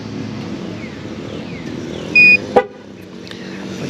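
A truck's horn gives one short, loud, steady honk during tire pressure sensor programming, set against a constant low idling rumble, with a brief sharp click following just after.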